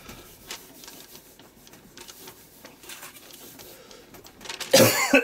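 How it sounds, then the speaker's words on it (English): Quiet ticking and rustling give way to a sudden loud, harsh cough burst near the end, close by. "Oh dear me, I've got a bit of a tickly cough today."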